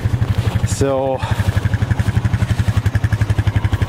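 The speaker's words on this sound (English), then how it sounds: "We're going to hop on the four-wheeler" A four-wheeler engine idles close by with a rapid, even chugging pulse, briefly interrupted by a short spoken word.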